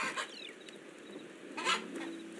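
Video game chickens cluck and squawk in short bursts, a couple of louder calls standing out over a faint steady background hum.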